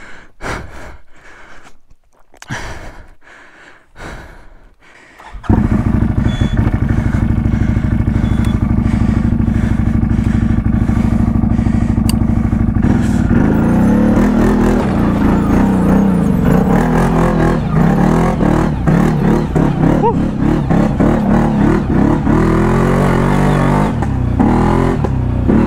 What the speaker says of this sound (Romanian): Bă, tata a venit cu linhaiul.